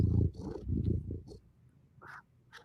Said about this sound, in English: He is a purr monster right now.